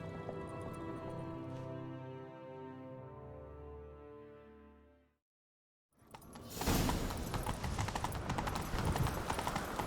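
Horse hooves gallop in the video game The Witcher 3 as the riders set off on a chase. Rhythmic, fairly loud clip-clop hoofbeats arrive after a musical passage and a brief silence, mixed with rushing movement noise.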